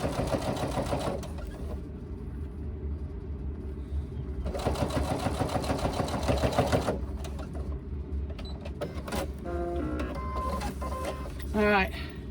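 A sewing machine runs in short bursts as it stitches a laptop bag with black thread, its rapid mechanical chatter starting and stopping between pauses, with talking mixed in.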